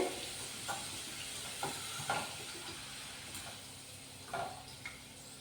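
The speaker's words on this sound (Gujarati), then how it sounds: "તો હવે આપણા મરચાં છે એ તળાઈ ગયા છે" Green chillies fry in hot oil for farali chevdo, giving a steady, soft sizzle with occasional scraping stirs and small pops close by.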